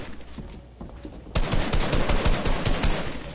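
Rapid gunfire in the video game mode moving zone wars, a quiet stretch followed by a dense burst of close, loud shots in quick succession.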